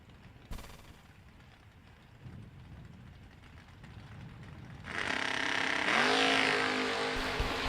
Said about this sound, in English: Nice little drag race right there.